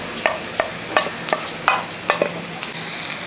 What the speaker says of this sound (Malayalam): എന്നിട്ട് അങ്ങോട്ട് ഇളക്കി